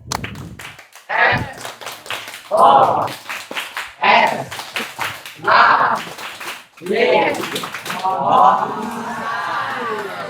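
Santri at an Ainul Yakin Islamic boarding school orientation perform the Mosai clap chant, a group chanting in unison over steady, rhythmic hand claps in repeated bursts.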